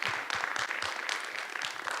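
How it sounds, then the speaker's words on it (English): Audience applause at a talk event, a dense wash of hand claps filling about two seconds at steady, moderate loudness, with a few sharper low-pitched claps standing out near the front. "So you can clap for that."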